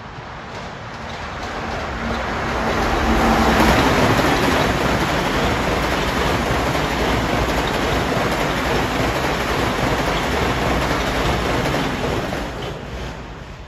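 Long Island Rail Road hot shot train from New York to Huntington East approaching Elmont station on track 1, a broad rushing roar that swells over the first few seconds and holds steady, close and loud, with no talk.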